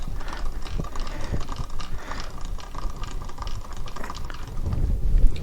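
A machinist cranks a boring bar up and down on a mill with the drawbar loosened, giving a steady run of fine mechanical clicking and ratcheting, close and fairly loud, with a low rumble swelling toward the end.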